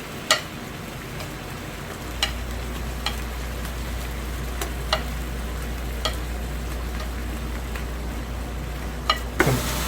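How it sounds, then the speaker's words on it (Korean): Fried shrimp tossed into sauce in a hot pan, a steady low sizzle with a handful of sharp clicks of a utensil against the pan spaced through the stretch, no voices. "자, 여기 에 양념장 넣어주겠습니다. 튀겨놓은 새우 다 넣을게요."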